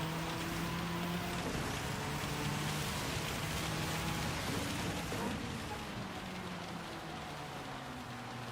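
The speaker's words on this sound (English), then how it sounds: "Rain looks heavy." Heavy rain in a racing video game, a constant dense hiss of rainfall with steady engine tones droning underneath, continuous throughout.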